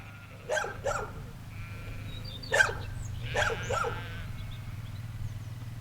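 A dog gives a few sharp barks in short bursts, close by, with quieter animal calls and a low background hum.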